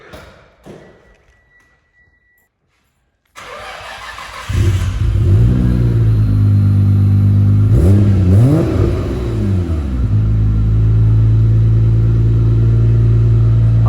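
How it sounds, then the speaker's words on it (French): A Nissan Skyline GT-R R33 inline-six engine fires up after a brief quiet moment, then revs hard in rising and falling sweeps before settling into a loud, steady high idle. "je te remets le moteur en marche?"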